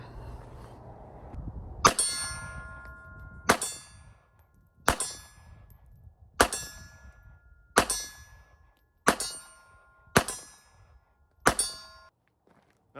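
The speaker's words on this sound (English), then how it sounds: "I'm gonna run a couple mags through this with the Norma just for the sake of experimenting" Beretta Tomcat .32 ACP pistol fires Norma ammunition at a shooting range, eight sharp ringing shots spaced about one and a half seconds apart, each with a brief metallic ring.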